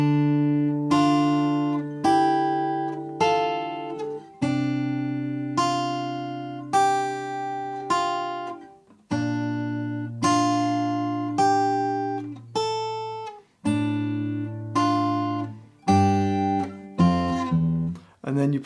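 Fingerstyle acoustic guitar plays a theme from Assassin's Creed slowly, with clear plucked notes over ringing bass tones in a steady, measured phrase, close and alone.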